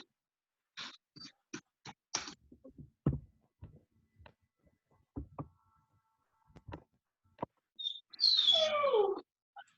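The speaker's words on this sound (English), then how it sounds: "Is that your dog? Yeah, she's outside. So she wants to come inside the house." A female dog left outside a house whimpers to be let in. Scattered taps and knocks, like paws at a door, lead up to a short, high, falling whine near the end, fairly close and with no voices over it.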